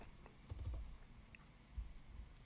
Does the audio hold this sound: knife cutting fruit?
no